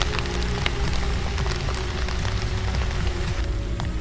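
Heavy rain pours steadily and loudly, a dense hiss of drops on surfaces with scattered sharper spatters running throughout.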